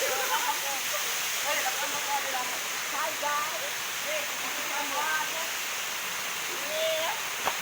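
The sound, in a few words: waterfall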